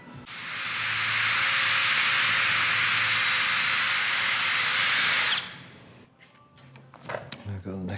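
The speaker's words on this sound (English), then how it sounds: "Okay, so let's drill some holes here." A power drill bores holes in metal while mounting a radiator during a custom vehicle build, one loud sustained whine from about 0.5 to 5.5 seconds that then cuts off, leaving quieter handling noises.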